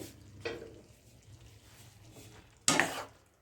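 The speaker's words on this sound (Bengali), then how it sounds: "একটু নাড়তে হবে" Boiled cauliflower mixed with yogurt, stirred in a pan: two short scraping strokes of a spoon, a soft one early and a louder, sharper one near the end, over a faint background.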